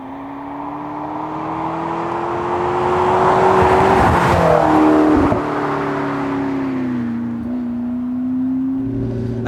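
A McLaren MP4-12C engine and exhaust drone steadily and loud, the pitch climbing gradually under load, peaking midway and then easing back down to a settled hum.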